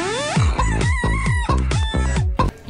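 A loud, close chicken sound fills the room with rapid, continuous clucking and crowing-like squawks, done as a drama-class exercise in imitating a hen, with no talk over it.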